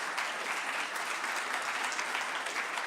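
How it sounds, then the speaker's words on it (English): An audience applauds steadily throughout at a Boston City Council Black History Month event: dense, even clapping from a crowd, moderately distant, with no voices over it. "Give them all a round of applause, please."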